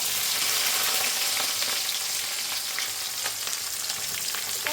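Garlic and dried chilli fry together in a pan, giving a steady, close broadband sizzle with small crackles and pops throughout, with no voices over it.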